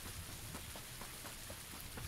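Steady rain pattering over an outdoor map in PUBG, a dense continuous hiss with scattered droplet ticks, fairly soft and unbroken throughout.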